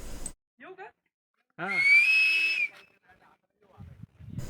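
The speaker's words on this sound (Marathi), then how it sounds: "मित्र होते त्यांना संदेश पाठवण्यासाठी शिट्टी वाजवली होती आणि शिट्टी खूप छान स्वरात वाजली" A whistle is blown outdoors at Ratangad fort in the hills, one sharp, steady shrill blast of about a second, preceded and followed by brief bursts of nearby talk.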